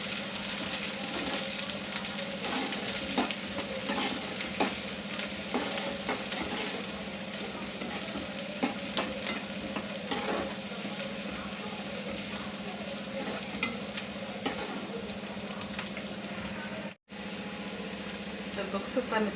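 Onions for Marathi-style homemade misal fry steadily in a pan, a continuous sizzling hiss with scattered crackles and faint clinks, lasting throughout with a brief dropout near the end.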